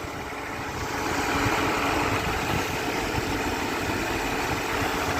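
A Wartburg 1.3 engine built on a Volkswagen block idles steadily and close by, a constant even rumble with no voices over it.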